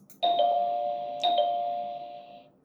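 Alert chime from the Kiwoom Securities trading software: two bright bell-like dings about a second apart, each ringing on and slowly fading, clear and alone.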